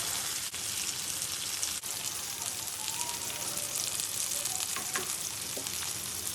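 Ginger paste fries in a honeycomb pan, not a nonstick one, giving a dense, continuous sizzle with faint scraping and a few soft taps as it is stirred.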